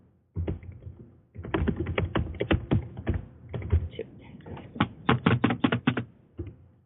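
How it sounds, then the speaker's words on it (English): Rapid bursts of clacking keystrokes in several runs with short pauses, close and fairly loud, like fast typing on a keyboard. "I hear you typing."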